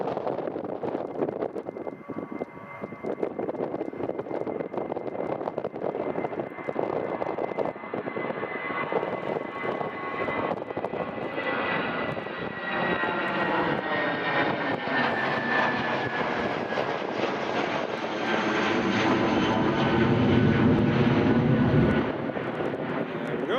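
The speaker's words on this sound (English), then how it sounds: "there's the British Airways shuttle just getting airborne" A British Airways shuttle jet takes off from runway 25 at Newcastle Airport, its engine roar loud and sustained, swelling and shifting in pitch as it climbs away.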